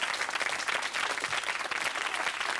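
A crowd applauds warmly for a performer named Scampy as he appears, the dense clapping steady and fairly loud throughout with no break.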